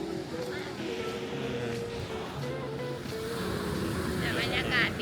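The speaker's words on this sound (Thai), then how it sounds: "หาดกว้างนะหาดกว้าง มีคนเล่นเซิร์ฟ" Ocean waves on a wide, cold sandy surfing beach with fine, wet sand: a steady, broad wash of surf mixed with wind buffeting the microphone, continuous and fairly close throughout.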